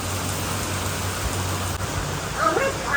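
Steady, dense rain pours down close by, a continuous wash of noise with a faint voice emerging near the end.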